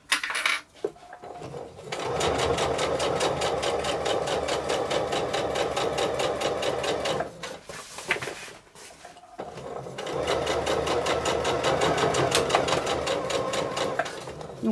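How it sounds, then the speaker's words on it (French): A domestic sewing machine stitches long stitches through thick layers of fabric on a beach bag, a fast, steady mechanical whir in two long runs split by a short pause, close and loud. "Ça aidera la machine à mieux piquer."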